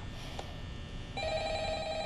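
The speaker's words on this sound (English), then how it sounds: "Answer the phone, guy." In the FNAF VR video game, an in-game telephone starts ringing after about a second of quiet background hum. It gives a clear, steady electronic trill with no talking.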